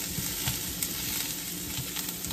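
Smoked crab sizzling gently in a hot pan, a steady quiet frying hiss with soft crackles and pops, no voices.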